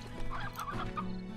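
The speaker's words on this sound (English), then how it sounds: "There's a lot of awesome chickens around here." Chickens in the video game Slime Rancher cluck in a quick burst of short, close, fairly loud calls, with no voices over them.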